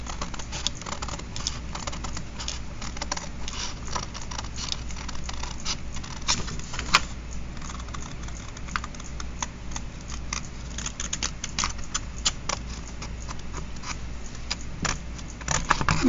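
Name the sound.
cutting paper along a line for a craft folder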